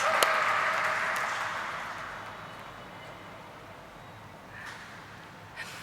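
Crowd applause for dignitaries at an IPO listing ceremony, a burst of many hands clapping that starts loud and fades into a sustained, thinning patter in a large hall, with a couple of sharp claps near the end.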